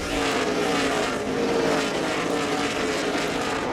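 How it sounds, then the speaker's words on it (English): NASCAR Busch Series stock cars race past at Richmond, a dense, continuous engine roar that stays loud and close for the whole stretch with no pause. "Here comes the 17 car up high, goes sailing by the 22."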